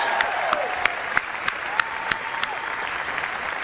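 A large crowd at a political speech by Illinois Governor JB Pritzker applauds loudly and steadily, a dense wash of clapping with crisp individual claps popping through, and no voices rising above it.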